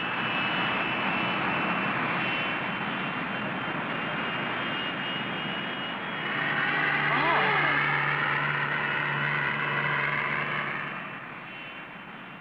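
Steady broadband engine roar of a helicopter overhead in the game Speed Racer: The Race For Revenge, swelling louder midway, with a voice speaking briefly over the noise.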